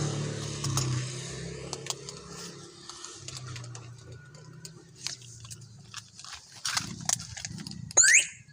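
A quick burst of high electronic chirps near the end, like an alarm beeping as it is switched off, after a stretch of shuffling and background noise.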